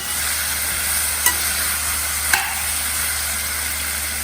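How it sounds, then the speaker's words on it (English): A potato and semolina mixture stirred in a pan makes a soft, steady sizzle with two light scraping knocks from the spoon, close and without speech. "Go on stirring like this."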